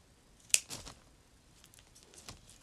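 Scissors snip through flower stems while a flower crown is being assembled, giving one sharp close cut followed by a few fainter snips and rustles in a quiet room.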